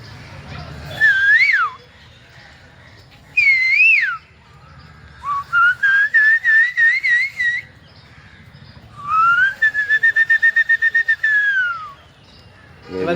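A man whistles an imitation of a cuckoo's call, several rising and falling phrases with rapid warbled trills, loud and close, separated by short pauses.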